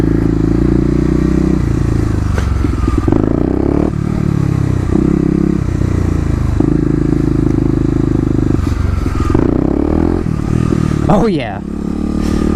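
A Kawasaki KLX250 motorcycle engine revs and pulls through a shift into second gear, its steady drone rising and dipping in pitch, while the rider talks briefly over it.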